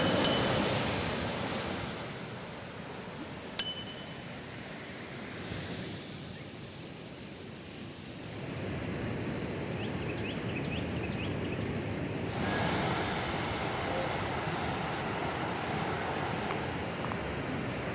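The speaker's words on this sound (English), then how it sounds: "This is definitely a pretty waterfall." Constant rushing roar of falling water, steady and broadband, with a brief knock early on and no talking.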